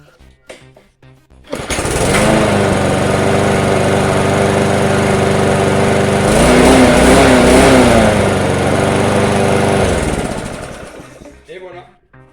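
A lawn mower engine is restarted after an oil level check, with the oil slightly overfilled in the crankcase. It catches after a brief silence and runs loud and steady for about eight seconds, rising slightly midway, then cuts out.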